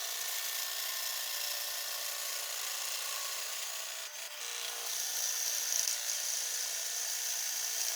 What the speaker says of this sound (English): As I drill the holes in the face grain